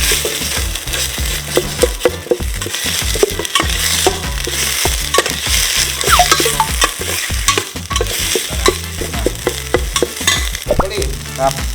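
Curry paste stir-frying for Thai khao soi chicken: a steady, loud sizzle of paste in hot oil, with frequent scraping and clacking strokes of a spatula against the pan, heard up close with no talking.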